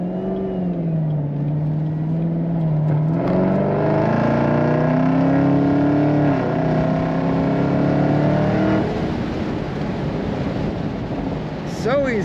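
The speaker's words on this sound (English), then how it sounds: "I'm just gonna let you listen for a little bit while I accelerate here." A 2024 Chevrolet Camaro ZL1 convertible accelerates hard from inside the cabin, its engine note climbing in pitch through the gears with wind noise, loud and close with no talk.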